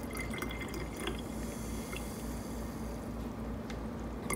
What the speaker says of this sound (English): And slowly pour it in. Supposed to do it at an angle.